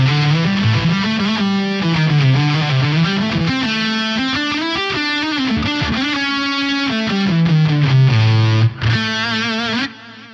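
Distorted guitar run through an Axe FX Synth Block wah at stock settings with a 50% mix, a continuous sweeping synth-wah melody that plays loud and unbroken before briefly cutting out near the end.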